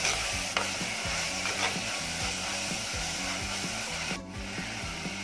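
Onions sauté in a pan with a steady sizzling hiss while a utensil stirs and scrapes in a regular, rhythmic back-and-forth, close and continuous, with no voices.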